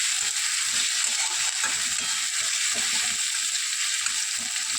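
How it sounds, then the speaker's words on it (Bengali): Pumpkin stalks fry in a pan, giving a steady, close sizzle with soft scraping and stirring sounds throughout and no talking. "এটা নাড়তে নাড়তে হালকা যখন ভাজা হয়ে আসবে, লাল বর্ণের হয়ে যাবে"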